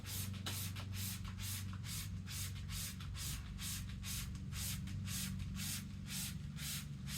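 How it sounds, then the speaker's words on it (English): Rapid rhythmic hissing sprays from an aerosol can of dye onto automotive carpet, short repeated bursts in a steady pattern over a low background hum, close up. "I'm going to tilt it so it all comes down as an atomized spray"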